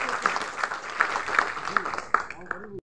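Applause at a NABARD (National Bank for Agriculture and Rural Development) event where a Kisan Credit Card sanction letter is handed to a chief guest: a steady wash of clapping from a crowd, running beneath a speaking voice until it cuts off abruptly.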